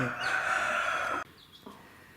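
A hen with chicks gives a drawn-out, loud vocal call, then a pause and a few softer clucks nearby.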